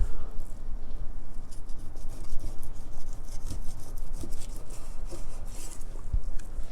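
A knife saws through pork spare ribs along the bone, a close, continuous rasping scrape with uneven strokes and small knocks, no voices.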